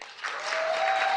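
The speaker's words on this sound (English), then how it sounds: "Let's applaud ourselves." Audience at the White House Correspondents' dinner breaks into applause, a dense swell of clapping from a large indoor crowd that builds and holds steady.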